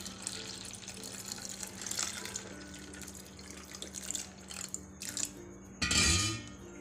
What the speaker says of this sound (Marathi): तर पाणी घालूया.